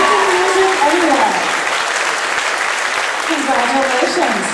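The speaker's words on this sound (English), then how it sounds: "1 more round of applause." A school concert audience applauds for a student viola player, a dense, sustained wash of clapping that stays loud and even throughout, with faint voices under it.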